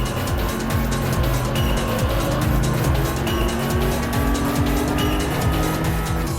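Race cars roar at a steady full-throttle pitch in the video game Import Tuner Challenge, engine notes rising and falling with brief tire squeals, loud and continuous with no talk.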